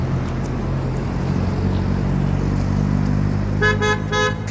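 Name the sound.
busy road traffic with car horns in Fahaheel, Kuwait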